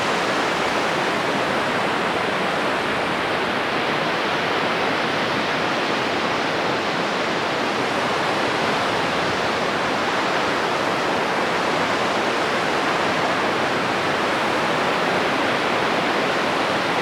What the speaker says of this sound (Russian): Так, вода идет по этим камням.